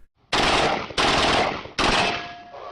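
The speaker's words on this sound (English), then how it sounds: "American contractors in Iraq were firing a Kalashnikov assault rifle and apparently hit one of the rounds" Three loud, close bursts of full-auto fire from a Kalashnikov assault rifle during the Syrian civil war, each a dense rapid stream of shots lasting about a second, the last trailing into ringing echo.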